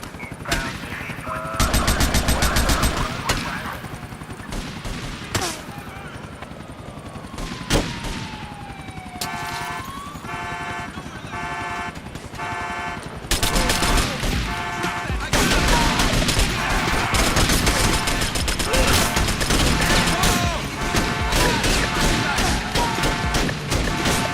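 Gunfire in Grand Theft Auto Vice City: bursts of rapid automatic shots and crashing impacts, mixed with loud game music and noise, steady and dense throughout with brief quieter stretches.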